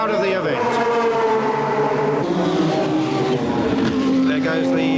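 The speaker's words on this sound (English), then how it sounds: "There goes the Seoul Bugatti in the race" A Bugatti race car at the 1994 Le Mans 24 Hours, its engine a loud, rising and falling whine as it passes, with a commentator talking over it.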